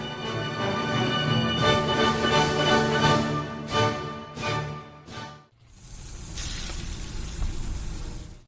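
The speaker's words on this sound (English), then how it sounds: "That's the sound of sizzling, dry-aged USDA Prime Wagyu and Angus steaks from UpperCutChops.com." Dry-aged USDA Prime Wagyu and Angus steaks sizzle in a steady, dense hiss that fills the last few seconds, loud and close, following a stretch of tonal music that ends in a brief dip.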